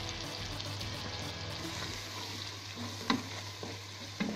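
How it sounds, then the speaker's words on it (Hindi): Egg fried rice with mixed vegetables and beaten egg stirred in a pan, a steady sizzle under scraping spatula strokes, with a couple of sharper knocks near the end and no talking. "अंडे शामिल करने के बाद इसको अच्छी तरह से हिला लें ताकि सब कुछ मिक्स हो जाए अच्छी तरह"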